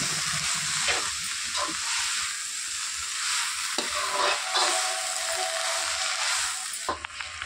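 Onions and mint sizzle steadily in a hot pan over high flame while a spoon stirs them, scraping and clinking now and then, heard up close with no talking.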